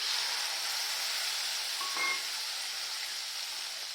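Onions, tomatoes and green chillies sizzle steadily in hot ghee, a constant close frying hiss with a brief brighter crackle midway.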